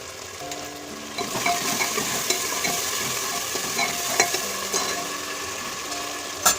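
Green peas and asafoetida fry in a pan, a steady close sizzle that grows louder after the first second, with intermittent stirring scrapes and a sharp clink at the end.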